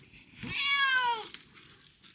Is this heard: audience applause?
no